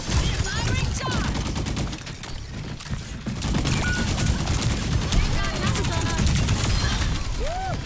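Rapid gunfire from the hero Sierra in the video game Overwatch, a dense run of shots over busy game noise with a synthetic voice speaking throughout.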